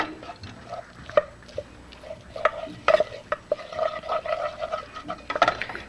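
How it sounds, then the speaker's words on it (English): Flour being stirred into melted margarine in a pan on the heat, with soft scraping and wet spoon taps against the pan under a low sizzle, irregular and close. "As you can see, that's mixing in pretty well now."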